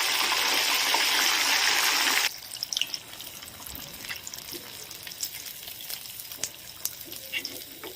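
Bombay duck pieces fry in hot oil: a loud, continuous sizzle for about two seconds, then drops to a quieter crackle with scattered pops and clicks.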